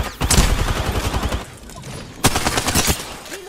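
Gunfire in Apex Legends, two loud rapid bursts of automatic shots, close and punchy, separated by a short pause.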